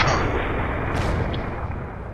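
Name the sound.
artillery fire in a tank video game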